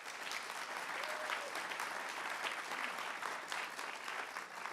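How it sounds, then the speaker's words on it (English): Audience applause at an evening event against antisemitism, a sustained even roar of many hands clapping heard from a distance, steady throughout with no talk. "another big round of applause"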